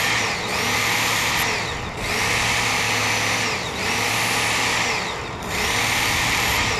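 A Work Sharp belt sharpener grinds a tanto folding knife in repeated passes: a loud, high whirring hiss rises and dips about four times as the blade is drawn across the moving belt.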